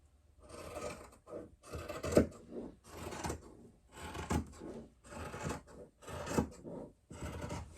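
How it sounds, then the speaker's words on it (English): Scissors cut through quilt fabric close to the microphone. Each rasping snip comes as a separate burst, about a dozen of them in a fairly regular rhythm, with short quiet gaps between. "I think I am going to switch over to my scissors."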